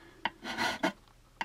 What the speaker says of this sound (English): file this big amount of overhang until it meets up with the plastic underneath